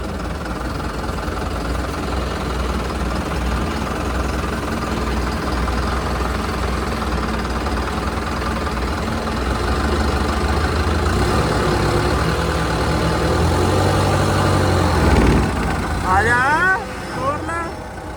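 A tractor engine runs steadily in a rain-flooded, waterlogged field, a loud continuous rumble that swells and revs near the end.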